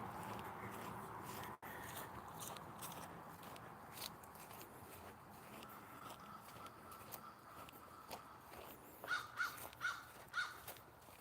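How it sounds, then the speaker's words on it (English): Crows in rural New Brunswick give a short series of four distinct caws near the end, moderately distant, over soft outdoor ambience and footsteps. "Actually, a lot of crows around here."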